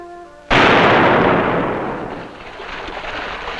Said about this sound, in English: So it began each evening of that summer, with the cannon's sound.